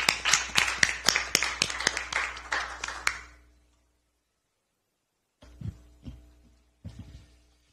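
Welcome applause at a Democratic Party of Korea talent-recruitment event for a new recruit, a labour-rights lawyer. A small group claps in sparse, distinct strikes for about three seconds, then silence, followed by a few soft, scattered taps.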